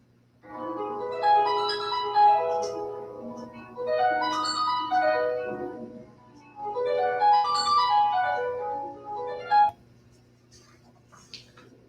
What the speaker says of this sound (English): harp players pluck the strings with their fingers. This makes the strings vibrate, so that way the strings can make sounds